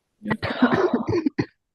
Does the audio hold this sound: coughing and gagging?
yes